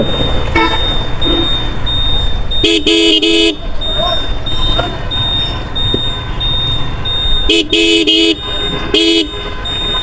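Traffic rumbles past on a Bangladeshi road while several horn toots and beeping blasts ring out in two loud clusters, with voices talking underneath.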